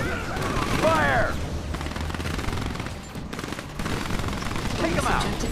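Gunfire in the real-time strategy game Command & Conquer 3 Tiberium Wars rattles in rapid bursts amid battle noise and unit voice lines, steady and fairly loud throughout.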